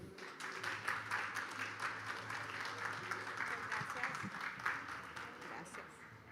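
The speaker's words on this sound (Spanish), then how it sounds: "Eu peço uma salva de palmas para a doutora Sandra." An audience applauds a speaker at an international forum, a sustained wash of many hands clapping at moderate distance, steady and fairly quiet, with no voices.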